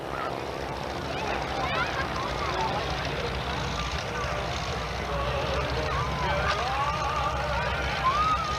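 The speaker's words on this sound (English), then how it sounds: "The T-6s with the Stearmans overhead." T-6 Texan trainers and Stearman biplanes fly overhead at the Atlantic City air show in 1990, a steady, loud engine drone that fills the whole stretch, with voices faintly underneath.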